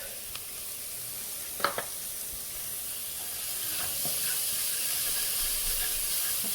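Chopped jalapeno is stirred into chicken tortilla soup in a pot over medium heat. A soft, steady hiss and sizzle carries a few faint spoon taps and clinks.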